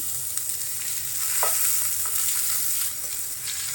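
Garlic and butter frying in a pan give a steady, close hiss of sizzling, with a few faint scrapes of stirring and a slight swell in the middle.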